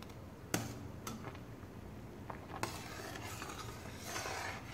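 Kiwi jam thickened with apple pectin cooking in a pot, with a soft bubbling simmer and a few sharp clinks of a utensil against the pot, quiet and close.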